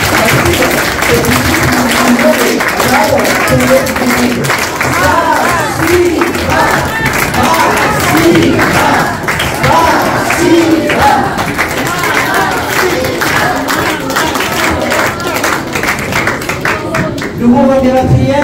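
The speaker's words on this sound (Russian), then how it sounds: "Давайте мы бурными аплодисментами скажем этим замечательным нашим гостям." Stormy audience applause for guests at a private school celebration in Makhachkala, loud continuous clapping from a packed hall lasting the whole stretch, with a few cheers and crowd murmur mixed in before it thins at the end.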